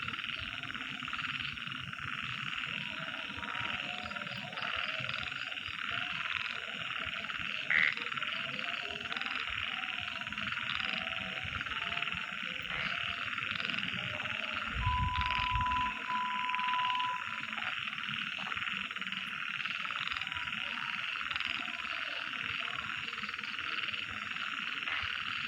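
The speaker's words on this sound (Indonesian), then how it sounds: "Bising kali bang, iya suara kodok" A dense chorus of frogs croaks steadily and without a break around an old house at night, forming a thick, continuous, pulsing din with no talk over it.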